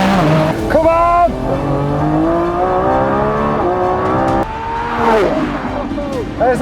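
A Lamborghini Revuelto supercar howls through a race track lap, its engine note rising and falling with gear changes and revs, with a brief tire squeal. It is loud and close throughout, with occasional excited talk over it.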